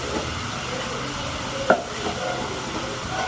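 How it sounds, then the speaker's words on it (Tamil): Tomato paste being stirred into chicken biryani in a pan, a faint soft scraping and gentle sizzle with one sharp spoon clink partway through. "தக்காளி பேஸ்ட் ஆட் பண்ணிட்டு நல்லா கலக்கி விடுறோம்"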